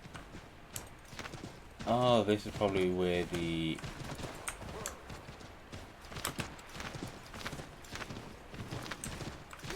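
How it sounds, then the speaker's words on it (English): Horse hooves clip-clop in Assassin's Creed III after a horse is summoned, a steady rhythmic trot under ongoing commentary, with a brief louder burst of game sound early on. "we can just kind of summon a horse"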